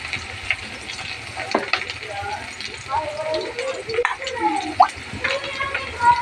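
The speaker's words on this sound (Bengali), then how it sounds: "ঝিঙে আলু পোস্তর জন্য আলুটাকে ভাজতে দিয়েছি।" Potato pieces fry in hot oil for a Bengali ridge gourd and poppy seed curry, a steady close sizzle and crackle running throughout while someone talks over it.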